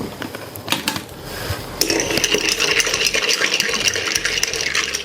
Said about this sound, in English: I will give that a mix right quick.